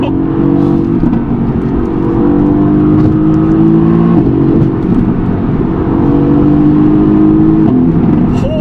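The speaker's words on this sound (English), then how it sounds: "So the pops get better as you get higher RPM, because I'm going to 7K now" A Mercedes-AMG GT-C coupe revving toward 7,000 RPM, its engine note loud and steady throughout with a rising whine, while exhaust pops are not clearly distinct over the continuous roar.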